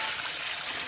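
Water streams steadily near a village waterfall, said never to run dry even in dry seasons, as a continuous broadband rush that stays even and fairly close for the whole moment, with no voices.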